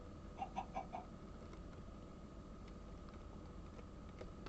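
Chickens in the video game One Life give three quick, soft clucks near the start, faint over a steady background hum, followed by occasional light clicks and no talk.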